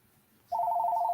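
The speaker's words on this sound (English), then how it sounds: "The phone will ring." A telephone rings indoors, a steady, close electronic trill starting about halfway through after a quiet stretch, pulsing in a fast, even rhythm with no talking.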